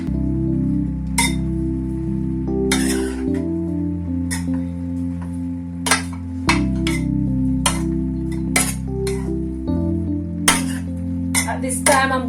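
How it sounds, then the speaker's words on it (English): Jamaican gungo peas rice is stirred in a pot. A spoon clinks and scrapes sharply against the pot at an irregular pace, over a steady, loud droning hum. "stir the pot."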